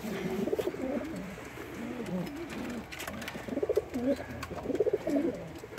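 Pigeons coo softly in repeated low, rolling calls, several birds overlapping close by against faint background noise.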